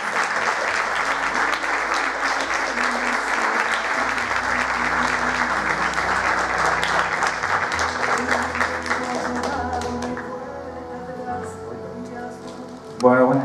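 A theatre audience in Zapala claps in sustained, dense applause at an album presentation, loud and steady before thinning out near the end, with a voice briefly audible.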